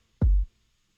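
A single deep, booming synth or bass hit from an electronic track swells briefly and fades within half a second. It is heard alone, close and fairly loud.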